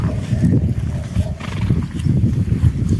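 A herd of horses moving together close by at pasture, a dense mix of hoof thuds, snorts and low whinnies, continuous and fairly loud.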